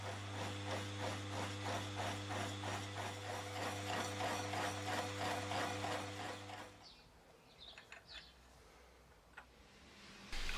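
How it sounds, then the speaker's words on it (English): A 2mm slitting saw grinds a slot into a metal brake shoe with a steady, loud, rhythmic machining whine. It stops after about seven seconds, leaving quiet clicks and handling noises. "As I'm using a 2mm slitting saw and need a 3mm slot, I first cut through on the centre line"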